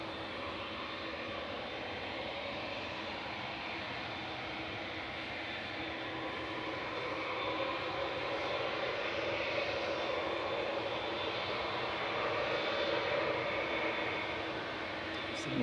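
Ryanair airliner approaching at Manchester Airport, a steady engine roar that swells slightly as the aircraft nears, heard from a distance alongside faint outdoor ambience.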